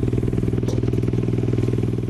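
A car engine idles with its exhaust running, a close, loud, throbbing rumble with a fast regular pulse and a slight rattle, steady across the whole stretch with no voices.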